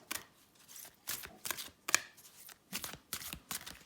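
Tarot and numerology cards are handled and shuffled in quick, soft papery bursts with short pauses between them, close by and fairly quiet.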